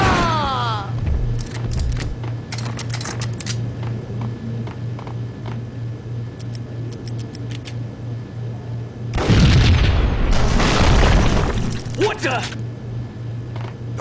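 A loud explosion bursts out in the Max Payne PS2 game, a sudden broadband blast about two-thirds of the way through, set against steady game ambience and a droning hum, with dialogue heard before it.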